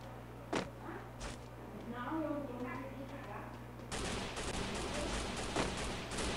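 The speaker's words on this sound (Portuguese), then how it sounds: "O White já deu dois tiros ali, quase derrubou." Gunfire in the Free Fire battle-royale video game: two sharp, separate shots come first, then a denser burst of rapid shots, all under a commentator's excited talk.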